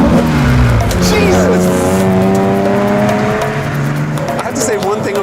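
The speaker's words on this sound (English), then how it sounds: "sounds like a Lamborghini V12, just all of that carbureted intake noise" A Nissan GT-R Hakosuka's carbureted engine revs loudly and close, its rising and falling tones carrying a rough intake roar, while a man lets out a short exclamation over it.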